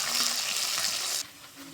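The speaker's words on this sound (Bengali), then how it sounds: "সুন্দর করে এখন ভাজে নেব।" Chopped garlic, onion, dried red chillies and cumin sizzle hard in hot oil in a pan, a bright loud frying hiss that drops abruptly to a quieter crackle near the end.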